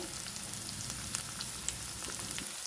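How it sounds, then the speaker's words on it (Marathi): Onions fry in a pan with green chillies and curry leaves for kande pohe, a quiet, even sizzle with faint pops, steady throughout with no talk. "कांदा भाजून घ्यायचा गोल्डन कलर येऊपर्यंत"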